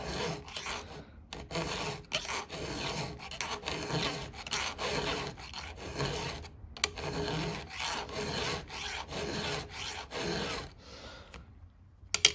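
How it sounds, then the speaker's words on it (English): A STIHL Hexa file rasping across a chainsaw chain, repeated rough strokes in a steady rhythm with short gaps between passes, close and fairly loud, with no voice over it. "this is a rough filing job"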